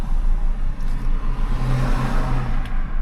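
Taxi car driving through Dnipro, a steady close engine hum and road rumble from inside the cabin with a slight rise in revs, no voices.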